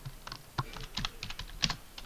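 Keystrokes on a computer keyboard as a Linux package-install command is typed, a quick irregular run of crisp clicks up close with no talking.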